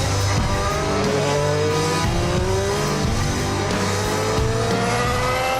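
A Formula 1 car's V6 turbo engine with energy recovery roars continuously at high revs, its pitch sweeping up through gear changes, loud and close with a buzzy turbo edge.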